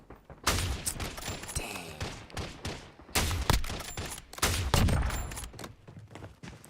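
Rapid bursts of video game gunfire crack through the clip, including a sharp sniper shot, mixed with impacts and thuds, while a player talks briefly over the loud shooting.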